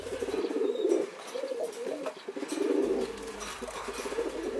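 Pigeons cooing in a breeding loft, soft repeated low throaty coos overlapping in a close, continuous murmur with faint chirps in the background.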